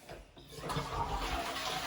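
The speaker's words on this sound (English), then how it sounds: "then I'm going to fully flush" An Australian toilet flushed in full during a repair, giving a sudden rushing surge of water that swells and keeps churning loudly close by.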